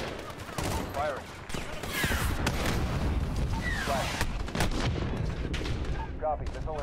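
Missile launches and explosions during a Call of Duty Modern Warfare (2019) campaign battle, with rapid bursts of gunfire, whooshing projectiles and heavy booms layered into a loud, continuous barrage.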